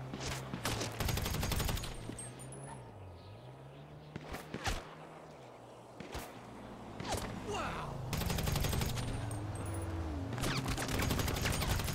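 Rapid video game gunfire in bursts of repeated sharp shots, loud and close, broken by quieter gaps, with some faint background tones.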